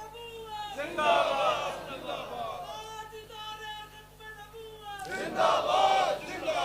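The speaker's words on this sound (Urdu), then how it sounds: "بہت نعرے نہ لگائیں" A crowd at a Sufi religious gathering on the blessings of Durood Sharif chants slogans in loud, rising bursts of many voices, with a pause between two strong swells.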